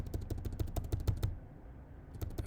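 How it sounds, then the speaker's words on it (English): Light, quick keystrokes on a computer keyboard while entering numbers into a spreadsheet, a fast run of clicks that pauses briefly and then resumes, soft and close. "I'm just typing it here"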